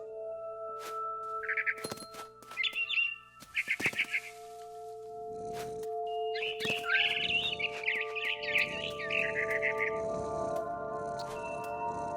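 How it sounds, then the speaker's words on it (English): A barn swallow chirps in What Remains of Edith Finch. Quick bursts of high twittering come in scattered clusters, then a longer chattering run, all over a constant tonal game soundtrack and occasional soft thumps. "It was a barn swallow going back to her nest."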